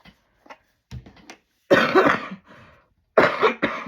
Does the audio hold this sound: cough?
yes